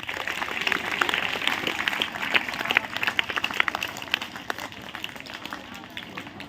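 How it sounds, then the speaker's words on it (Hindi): Audience applause at a school talk for students, a steady patter of many hands clapping at moderate distance, fading slightly toward the end. "एक बार आप भी उनके लिए तालियां बजाइए।"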